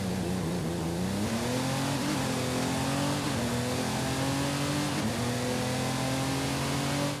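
A 1,750 hp Honda Ridgeline Baja Trophy Truck in Forza Horizon 5 revs hard with a loud, continuous engine note that climbs in pitch in steady surges, dipping briefly at shifts, with no talk.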